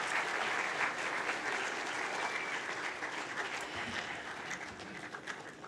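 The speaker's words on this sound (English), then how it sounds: "Students, can we give our parents and our families a massive round of applause" A school awards-evening audience applauds parents and families, with sustained even clapping that holds steady and fades slightly toward the end.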